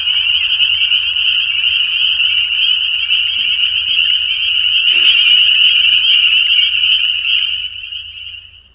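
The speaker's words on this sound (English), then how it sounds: "Standing amidst a peeper chorus is like attending an amphibian rock concert" A dense chorus of spring peeper frogs trills and peeps continuously in one loud, shrill band, with no voices, before fading away at the end.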